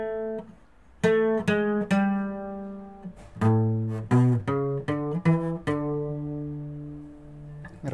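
A requinto guitar plays a song slowly, with clear plucked notes and short runs ringing out one after another, alone and fairly quiet.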